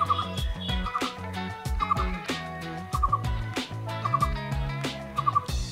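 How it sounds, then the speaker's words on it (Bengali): A bird calls from a guava tree, its repeated loud, rhythmic gobbling notes coming in short bursts roughly once a second, close and clear with no talk over them. "পেয়ারা গাছে একটা পাখি বসে আছে, সেখানে বেশ আওয়াজ করছে"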